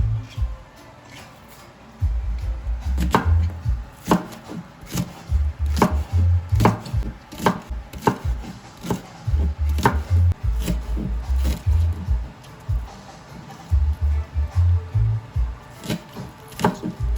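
A knife chops green onion on a board in quick bursts of sharp close taps, pausing briefly between runs, with no talking.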